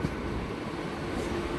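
A Ranaghat–Amghata local train on its way to Krishnanagar, near National Highway 12, sends out a steady, even rumble and low hum with no breaks, a constant rolling noise without any voices over it.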